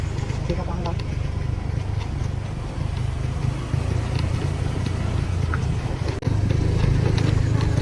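A motorcycle engine runs steadily and loudly while climbing the mountain road to Phnom Chisor temple in Cambodia. The drone holds throughout, and a voice talks over it.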